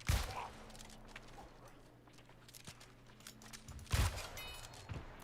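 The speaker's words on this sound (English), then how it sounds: "Actually, I want to finish this with the rifle." Rifle shots in the New World online role-playing game, two loud single reports a few seconds apart, one at the very start and one near the end, against quiet ambience.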